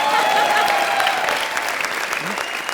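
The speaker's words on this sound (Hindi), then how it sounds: "तू क्यों रुक गया ताली बजाते हुए?" A comedy show's studio audience applauds in a dense wash of clapping that slowly thins out, with a voice briefly heard over it.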